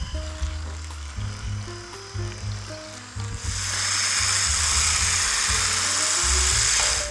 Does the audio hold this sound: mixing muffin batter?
yes